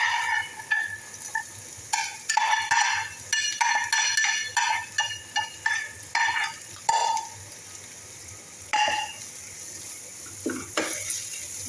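Chopped onion goes into a hot pan after chicken has been fried, giving a soft sizzle broken by repeated bursts of spatula scraping and stirring, close and fairly loud.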